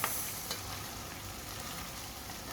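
Tomatoes hit a pan of frying beef, sending up a loud, dense hiss with a sharp initial burst and a brief stirring clatter, steady and close.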